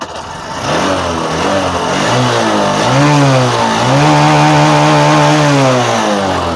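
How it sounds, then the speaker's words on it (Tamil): A BS6 motorbike engine, fitted with a fuel pump tester, runs close and loud after starting, its pitch climbing and falling through several strong revs over a rough idle. "வண்டி வந்து பக்காவாக ஸ்டார்ட் ஆகுது நல்லா ரைசிங்கும் பண்ணலாம்"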